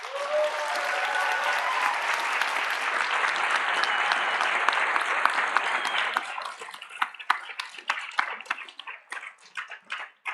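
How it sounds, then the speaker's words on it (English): A conference plenary audience applauds loudly and evenly for about six seconds, then the clapping thins into scattered, separate claps that trail away. "I think they do deserve a round of applause."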